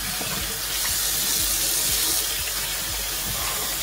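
A tap runs steadily for rinsing, a loud, continuous close rush of water with faint splashes underneath.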